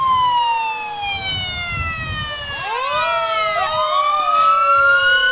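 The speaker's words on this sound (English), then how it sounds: "Greensburg fire engine with all of the siren going on here." A Greensburg fire engine blares its sirens while rolling past in the Decatur County Fair parade, several loud wailing tones sweeping up and down and overlapping over low engine rumble.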